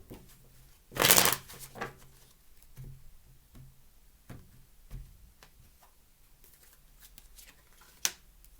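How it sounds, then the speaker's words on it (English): Tarot cards shuffled by hand: a loud riffling burst, then a few softer riffles and scattered light taps and clicks, close up with no voices. "just going to do 3 shuffles and then we are going to get going here."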